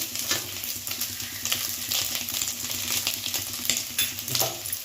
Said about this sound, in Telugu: ఇంకా కొంచెం ఒక టూ మినిట్స్ ఇట్లా ఫ్రై చేసేసుకుంటే అయిపోతుందండి